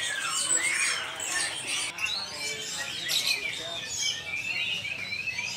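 Caged imported and local songbirds at the Pramuka bird market in Jakarta, a busy mix of high chirps, tweets and squawks overlapping continuously, close and fairly loud, with market bustle beneath.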